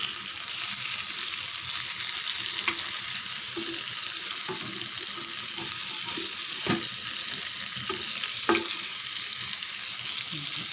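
Rasam sangara fish fries in oil in a pan, a soft steady sizzle with occasional sharper spits and the clink of a spatula turning the fish, moderately faint and continuous, with no talking.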